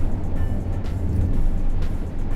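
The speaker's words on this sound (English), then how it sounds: "I'm sure you can hear that wind noise" Wind roars and buffets through the open sunroof of a moving car, a steady low rumble caught by a GoPro Hero 9 with a Rode microphone, with no voices.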